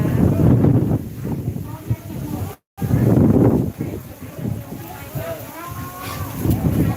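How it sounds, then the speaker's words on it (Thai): Strong wind buffets the microphone in loud gusts, with a voice calling out over the roar. "โอ้ยลมแล้ว"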